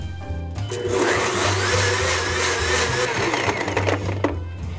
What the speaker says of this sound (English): put them all in the blender one at a time, and then blend for about 45 seconds